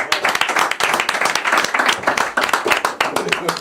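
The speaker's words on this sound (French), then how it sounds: "on peut applaudir Élise très très fort" A talent show audience claps loud and fast at close range, a dense rattle of hands that runs without a break from start to end.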